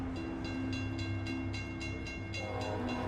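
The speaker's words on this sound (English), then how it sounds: "Another train coming." A train passes through East Palestine, Ohio, its horn sounding in long sustained tones over a steady rumble of rolling wagons, with a rapid repeated clatter of wheels on the rails, loud and close.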